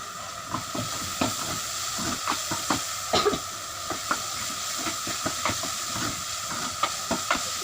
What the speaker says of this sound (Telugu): ఇలా ఫ్రై చేసుకుంటూ కలుపుకుంటూ ఫ్రై చేసుకుందాం.